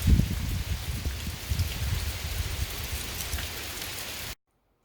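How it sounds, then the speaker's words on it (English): Steady rain falls and patters on a surface, close and even, a low rumbling wash that runs without voices and then cuts off abruptly near the end. "Rain, rain, rain."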